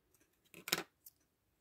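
Scissors snip through lace ribbon for an Easter decoration, a quick pair of close, crisp cuts followed by a fainter third snip, alone with no talking.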